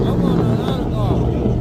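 Drag race car with a supercharger blower, a loud rough engine rumble with whine, close and steady over a short stretch, with people talking nearby.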